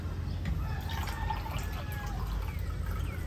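Drinking water pours and trickles at an outdoor breakfast table, a gentle continuous liquid stream, fairly quiet with no talking.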